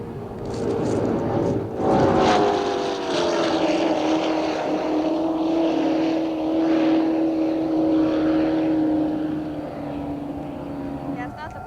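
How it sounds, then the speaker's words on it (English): The Gentry racing powerboat passes with a loud, sustained engine roar that rises and then holds a steady droning tone. Voices talk over it. "Okay, here comes the Gentry boat."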